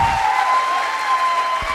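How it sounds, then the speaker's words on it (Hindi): Audience applause at a live training seminar, a steady dense wash of clapping hands that holds at an even level throughout, with a brief low thump near the end. "ताली बजानी है तो अच्छे से बजा लो"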